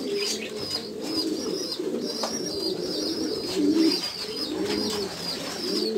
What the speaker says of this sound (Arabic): اليوم ان شاء الله عندنا جمع الحمام